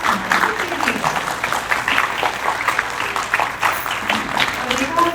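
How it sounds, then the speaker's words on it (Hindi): An audience claps together in a sustained round of applause, dense and lively, with some crowd murmur mixed in. "तालियों की आवाज"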